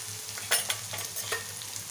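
Soft tomatoes cooking down in oil in a pan, a steady low sizzle with a few sharper clinks and stirring scrapes, close and fairly quiet, no talking.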